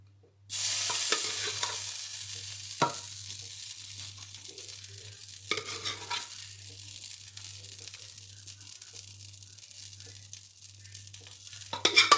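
A sudden burst of crackling sizzle starts as tempering spices and chillies hit hot oil, then settles into steady, bright frying with a few scrapes, close up.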